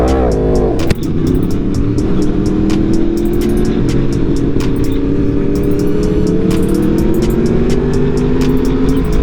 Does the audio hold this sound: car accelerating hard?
yes